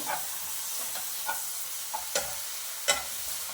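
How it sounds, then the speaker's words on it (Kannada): Tomatoes cook in a pan for spinach dal khichdi, a soft continuous sizzle broken by a few sharp scrapes of a spatula, close and fairly quiet with no voices. "ಟೊಮೆಟೊವನ್ನು ಹಾಕೋಣ. 2 ನಿಮಿಷ ಮುಚ್ಚಳ ಮುಚ್ಚಿ ಬೇಯಿಸ್ತಾ ಇದ್ದೇನೆ."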